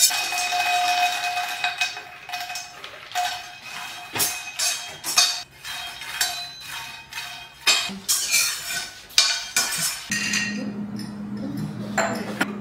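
Crispy fried food is scraped from a pan onto a plate after the flame is turned off, giving clattering scrapes and clinks of utensil on metal and a soft hiss, close and busy without speech.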